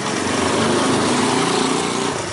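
A Rusi Gala GY6 scooter engine runs at a steady, buzzy idle close up, a continuous small-engine drone with no talking over it.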